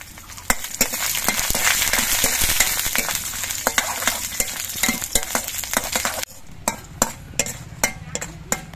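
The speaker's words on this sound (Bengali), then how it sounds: "কড়াইয়ে সর্ষের তেলটা গরম হয়ে যাওয়ার পর আমি কয়েকটা ডালের বড়ি ভেজে নিচ্ছি।" Dal bori lentil dumplings frying in hot mustard oil in a wok: a loud, dense sizzle with frequent sharp clicks of stirring against the metal, which thins to sparse taps and softer frying near the end.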